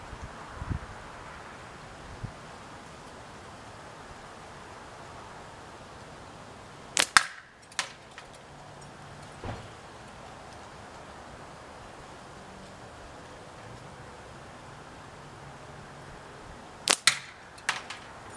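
8mm steel ball ammo fired from an RVA Tadpole slingshot strikes the target in two sharp bursts of a few quick cracks each, against a quiet outdoor hiss with faint rustling.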